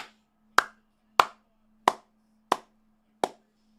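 Five sharp, evenly spaced hand claps ring out one by one over a low background hum, as a viewer follows an AFL preliminary final between Geelong and Hawthorn.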